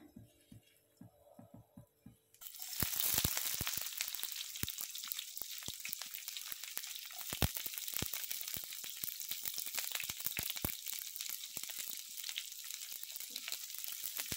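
Chopped onion hits hot oil in a pan for a cashew usal, bursting from near quiet into a loud, dense, crackling sizzle that keeps popping steadily without any talking.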